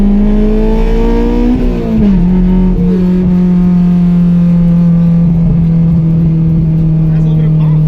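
A Honda S2000 engine and exhaust rev loudly, the pitch climbing and then dropping before settling into a steady, droning hum that holds to the end.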